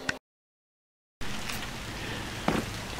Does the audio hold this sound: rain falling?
yes